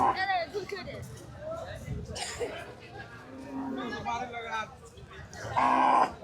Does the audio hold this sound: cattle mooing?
yes